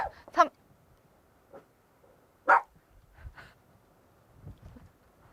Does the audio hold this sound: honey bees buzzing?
no